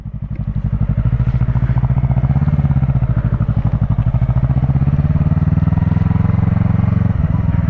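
A low-CC motorcycle engine running steadily while riding, a loud close throbbing drone that rises and falls slightly with gear changes and briefly dips near the end.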